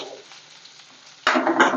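Onions, chillies and ginger fry in oil, giving a faint low sizzle that suddenly swells into loud, crackling frying partway through.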